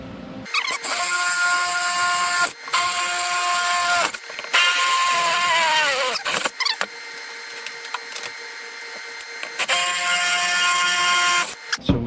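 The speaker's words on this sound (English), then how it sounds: "So we got our 4 holes drilled" A drill bores four holes in metal for a custom mixing board cart. Loud, close whining bursts repeat, each lasting a few seconds, with short gaps and mechanical rattles between them.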